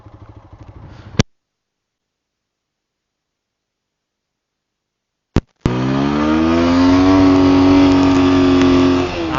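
A TVS Apache RTR 160 4V motorcycle engine rumbles briefly while riding. After a long silent gap and a sharp click, it returns loud and close, rising steadily in pitch as it pulls.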